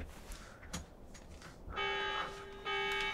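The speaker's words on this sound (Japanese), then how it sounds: "この警報は。" An alarm in the game Xenoblade Chronicles Definitive Edition, a faint, sustained electronic buzzing tone that starts partway through, pauses briefly, then resumes, following some soft rustling and a thud.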